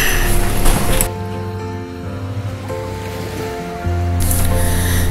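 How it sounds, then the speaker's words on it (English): Lake Ontario waves wash ashore at Woodbine Beach in Toronto, a loud rushing surge that eases into a softer lapping wash before swelling again, close by and with no talk. "this beach is very beautiful"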